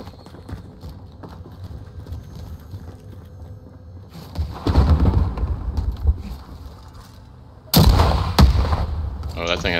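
Gunfire in a shooter video game, rapid loud bursts of shots over a steady background rumble, with a heavy second volley near the end, alongside faint game sounds.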